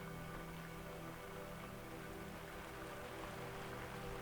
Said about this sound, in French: Le bruit de la pluie.